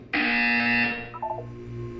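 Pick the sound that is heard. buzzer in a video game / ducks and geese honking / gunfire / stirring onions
buzzer in a video game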